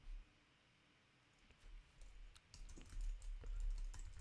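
Quiet keystrokes on a computer keyboard start as scattered taps and become a denser run of clicks in the second half, close and soft with no talk.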